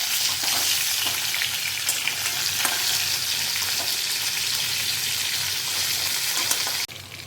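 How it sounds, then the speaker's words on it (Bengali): Katla fish pieces fry in mustard oil, giving a loud, unbroken sizzle while they are turned over, with faint scrapes in the pan before the noise drops abruptly near the end. "এক পাশ ভাজা হয়ে গিয়েছে, আমি পাশ উল্টে দিলাম।"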